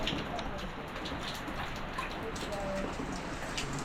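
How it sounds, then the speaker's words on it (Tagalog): Steady rain falls in a continuous, even hiss with scattered drops pattering on surfaces, moderately quiet and unbroken throughout, with a few faint higher tones in the background. "Naulan."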